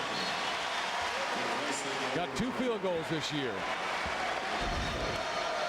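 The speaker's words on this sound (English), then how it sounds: "Listen to the crowd." Basketball arena crowd at a men's college game cheering, a loud, broad roar that swells in the middle and holds, with a commentator talking over it.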